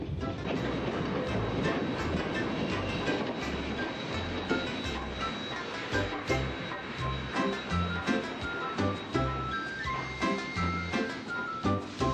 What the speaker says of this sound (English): James and Ellen White left Bowling Green and took the train for Battle Creek, Michigan.